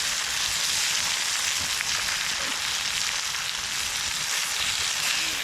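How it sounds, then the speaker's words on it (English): Venison backstrap sears in a hot pan at an outdoor camp cooking setup in Michigan's Upper Peninsula, giving a steady, dense sizzle close to the pan with no break. "With our venison, we're just gonna cook it for a minute or two on each side."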